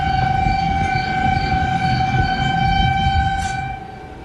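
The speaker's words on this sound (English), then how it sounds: "Authorities sounding the tornado sirens in Rock Valley to urge residents to evacuate" A steady wailing tornado siren tone sounds continuously over a low rumbling background in Rock Valley at night, loud and sustained, easing off near the end.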